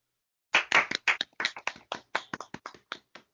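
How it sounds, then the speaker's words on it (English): One person claps hands alone after half a second of silence, a run of about sixteen sharp, close claps at an uneven, quickening rhythm, each crisp and separate. "I'm clapping."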